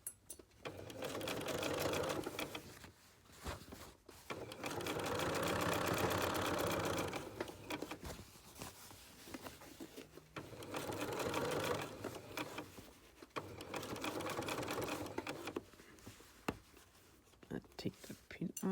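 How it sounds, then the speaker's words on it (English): A sewing machine stitches a bustier foundation and bra cap in several sustained runs of steady whirring, stopping and starting between bursts, with quiet handling noises in the pauses. "And I'm just going to stitch it."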